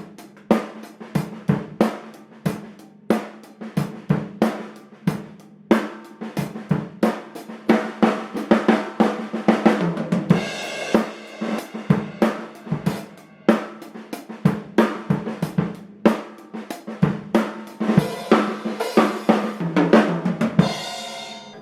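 A drum kit keeps a steady groove of regular hits and then rolls into a busier, denser fill that lands back on the downbeat, played close and clear with no talking.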